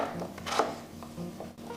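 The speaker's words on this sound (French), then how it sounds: "Je les découpe pour une cuisson plus rapide." A knife chops potatoes into pieces for faster cooking, a few distinct cuts and thuds against a board, fairly quiet and close, with soft rubbing scrapes in between.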